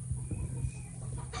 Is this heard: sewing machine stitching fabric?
no